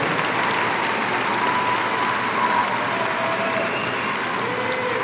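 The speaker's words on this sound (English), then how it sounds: "Let's give them a round of applause." Audience at a 2016 high school graduation ceremony applauding steadily, a dense, even wash of clapping from a large crowd that holds at constant loudness throughout, with no voices standing out.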